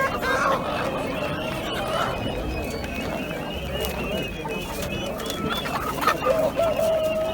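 Village chickens at a poultry market, clucking and calling intermittently in the background beneath near-continuous talk from people, with a brief higher-pitched squawk near the end.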